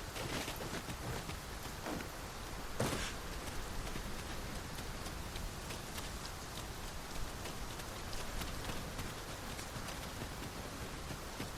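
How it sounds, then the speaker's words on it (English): Rain falling in Dragon's Dogma 2, a steady soft hiss of rain with scattered drops and occasional light taps, faint and continuous, no talking. "It started raining, Master."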